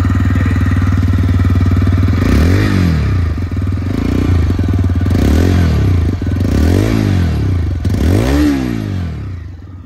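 A TVS Raider 125 motorcycle engine idles steadily up close, its exhaust thrumming low, with a few brief blips of throttle swelling the sound before settling back.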